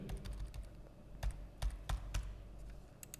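Keys clatter on a computer keyboard as a phone number is typed into an order-tracking spreadsheet, a light patter of taps broken by a few sharper, louder strikes, close and quiet with no voice.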